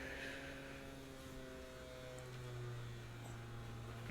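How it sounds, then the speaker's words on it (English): A PC CD-ROM drive spinning with a steady, low airplane-like whir and faint hum, quiet and continuous with slowly shifting tones. "That airplane sound is my my CD-ROM drive"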